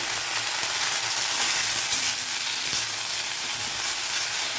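Mint leaves sautéing in a pan with a small gooseberry-sized lump of tamarind, producing a loud, unbroken hiss and sizzle with a few faint stirring knocks, close up and without speech.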